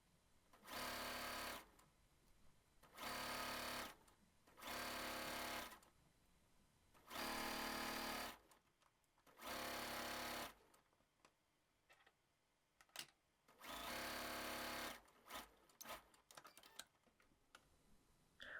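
A sewing machine stitches a pajama pant hem in repeated bursts of steady stitching, each lasting a second or two, separated by brief pauses and small clicks of handling.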